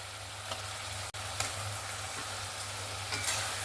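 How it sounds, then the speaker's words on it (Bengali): Fried tangra fish stirred into sizzling masala in a pan gives a steady, moderately quiet sizzle with a few soft scraping stirs and light clicks, with no talking. "মাছগুলো দিয়ে মশলার সঙ্গে ভালো করে একটু মিক্স করে নেব।"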